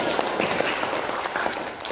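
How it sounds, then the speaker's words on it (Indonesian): A group claps together in applause during a classroom teacher-training session for social studies, a dense steady patter of hands lasting the whole moment at moderate loudness with no talk over it. "tepuk tangan untuk kita semua"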